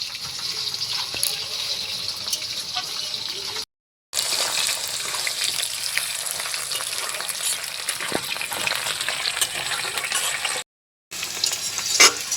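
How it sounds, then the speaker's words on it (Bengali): Potato pieces fry in hot oil in a home kitchen pan, a steady loud sizzle and crackle with occasional stirring, running continuously apart from two brief silent gaps. "তেলের মধ্যে একটু ভেজে নেব।"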